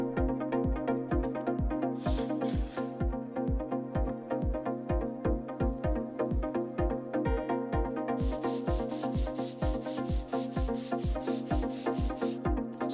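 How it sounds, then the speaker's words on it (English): Hand sanding removes saw marks from the edges of a glued PC case. It makes a steady, quick back-and-forth rasp of about three strokes per second, close and continuous, with brighter, grittier scraping in some stretches. "saw marks sanded off."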